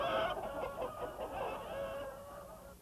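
Hens on an egg farm housing about 8,000 birds cluck in overlapping, rhythmic bursts, a busy flock chorus at moderate distance with no talk.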